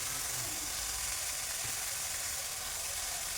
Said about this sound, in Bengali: যে পেঁয়াজ রসুনটা দিয়েছিলাম, কাঁচা লঙ্কা 4টে দিয়েছি, এবার ভাজা হয়ে এসেছে